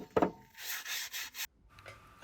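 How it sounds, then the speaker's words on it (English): Kitchen scourer scrubbing Hope F20 pedal parts in short, rasping strokes, several close rubs separated by brief pauses, with no talk. "I used a kitchen scourer to try and clean them up a bit."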